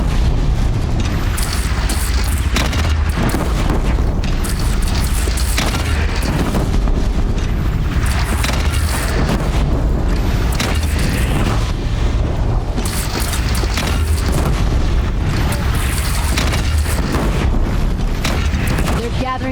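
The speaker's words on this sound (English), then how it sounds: "They only have one cannon!" Cannon fire and battle booms in Horizon Zero Dawn, with dense rumbling explosions running throughout over a constant loud game soundscape.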